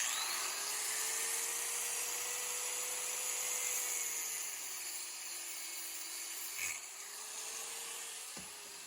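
An angle grinder cutting through steel braided AN hose wrapped in tape, a continuous high whining grind that holds steady, dips slightly in pitch under load, then ends with a brief clack.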